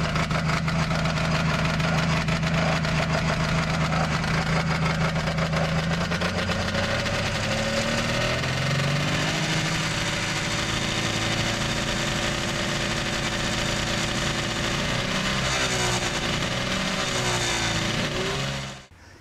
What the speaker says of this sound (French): j'avais le moteur de 440 3 cylindres Frière